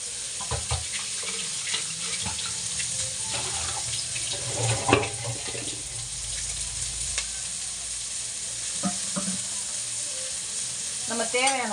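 Continuous sizzling and frying in a pan while a lake fish curry is cooked, with faint stirring clatter and scrapes over the steady hiss, and no speech.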